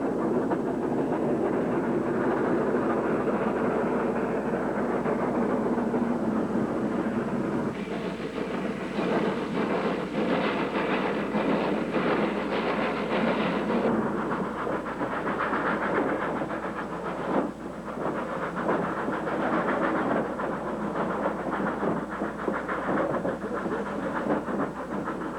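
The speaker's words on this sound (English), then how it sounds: "91 Bagirata gives a fine display of the rack and pinion drive in action." The Nilgiri Express, a slow rack and pinion steam train in India, moves along steadily with continuous rumbling, rhythmic clanking and rail clatter. The sound is close and sustained, and its rhythm intensifies midway.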